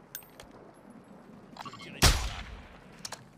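Gunfire in the shooter game Warzone 2: scattered faint shots, then one loud close blast with a ringing tail and a few quieter cracks after it, with some talk in the background.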